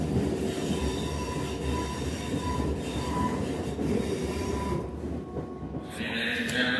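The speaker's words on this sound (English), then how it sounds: "the next train to arrive on this platform will be on late running 1548 Heathrow Express to London Paddington" A Heathrow Express train arrives at a station platform, its steady rumbling wheels and rail noise rolling close by with a brief high squeal near the end, no voices over it.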